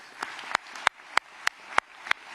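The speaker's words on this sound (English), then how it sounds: "Let's give them all a round of applause" Audience at a community leaders summit gives sparse, evenly spaced claps, about seven sharp hand strikes in a slow rhythm, moderately close, with no voices over them.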